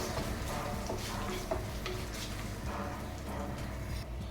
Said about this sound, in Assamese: দি গোটেইখিনি ভালদৰে লৰাই দিছোঁ।